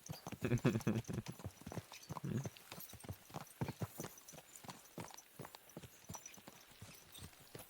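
Horses' hoofbeats clip-clop in a quick trotting rhythm throughout in the video game Kingdom Come: Deliverance II, with a low rumble near the start and faint background ambience.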